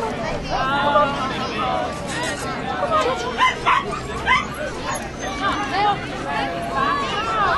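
Several dogs bark, yip and whimper close by in short irregular bursts over a background of crowd chatter and voices.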